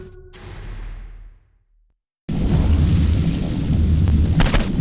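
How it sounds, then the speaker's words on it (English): Flaming bullets fired in the video game Saints Row IV: a loud boom decaying into silence, then a dense, heavy roar of fire and blasts that continues to the end. "Fire. Particularly flaming bullets."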